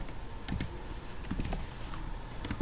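An SSH copy-id command is typed on a computer keyboard in short bursts of close, crisp key clicks with small pauses between them.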